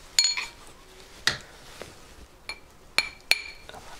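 A metal hammer taps a soldered ring join on a ring stick in a jewellery workshop: about six sharp, bright metallic clinks at irregular intervals, close and clear with quiet gaps between.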